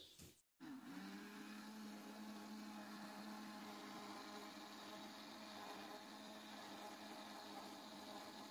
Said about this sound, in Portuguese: Eu vou colocar tudo no copo do liquidificador